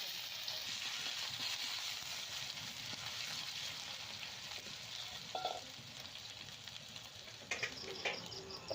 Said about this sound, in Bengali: ফোড়নগুলো ভাজা ভাজা হয়ে গেছে, ওর মধ্যে আমি আদা বাটা দিলাম 2 চামচ।